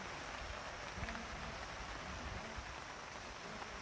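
Torrential monsoon rain falls all day, a steady, even hiss of drops on surfaces with a faint low rumble beneath, constant and fairly quiet throughout.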